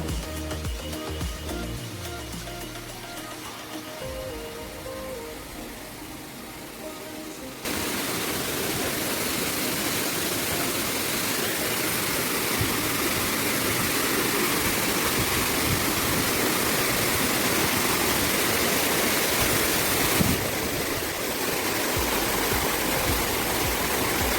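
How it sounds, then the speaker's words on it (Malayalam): A monsoon waterfall at Kappimala, Kannur, roars as a dense, steady rush of crashing water, loud and unbroken, following a quieter opening with some faint tonal sounds. "ഇത് നല്ല മഴക്കാലത്തുള്ള വെള്ളച്ചാട്ടത്തിൻ്റെ ഒരു വീഡിയോ ആണ്"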